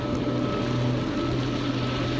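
A jet ski engine runs steadily on open water near a light tower off the Florida Keys, a continuous low droning hum with faint water wash, fairly even in level throughout.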